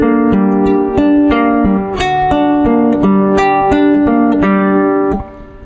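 A guitar picks out the opening measure of the Legend of Zelda Fountain theme, a steady run of bright plucked notes over a few chord shapes, played close and clear with no talking.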